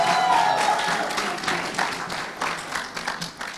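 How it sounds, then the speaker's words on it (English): Audience applause at a startup cohort demo day, a steady wash of many hands clapping that stays loud at first and slowly thins and fades toward the end. "a round of applause, please,"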